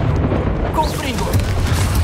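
A Confringo fire spell in Hogwarts Legacy, a deep booming blast with crackling burst layered over busy game ambience and other effects, lasting around two seconds at moderate loudness.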